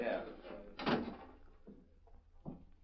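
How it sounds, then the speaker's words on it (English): In a radio drama, a door is pushed shut with a soft thud, followed by a couple of fainter knocks and clicks in a quiet room. "Close that door."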